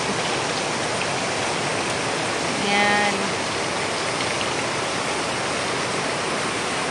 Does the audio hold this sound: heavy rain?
yes